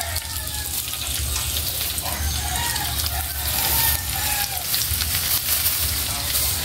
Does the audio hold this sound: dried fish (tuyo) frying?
yes